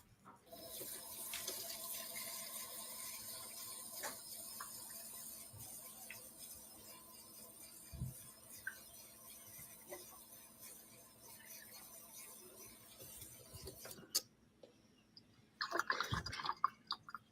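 Water pours and splashes from a container in a domestic setting near a train derailment site, a steady faint trickle running for many seconds before a few louder sloshing bursts at the end.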